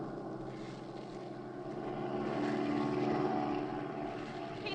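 Airplane engine drone as a radio drama sound effect, a steady low roar that swells in the middle and stays constant without voices.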